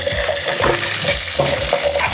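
Madras onions frying and sizzling in a pan while a spatula stirs them, a steady close crackle with repeated scraping strokes and no talking.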